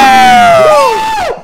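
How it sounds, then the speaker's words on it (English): A roomful of people in Magical Diary: Horse Hall bursts into loud, sustained cheering and shouting, close and dense, fading slightly toward the end. "Suddenly, the whole room is cheering!"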